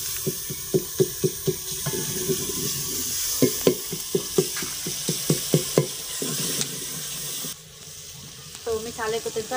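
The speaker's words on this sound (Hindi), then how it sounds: "तो मसाले को तड़का भी लग चुका है" Spices, browned onions and tomatoes sizzling in a pan while a spoon stirs and scrapes in quick repeated strokes, loud and close, with steady frying hiss underneath.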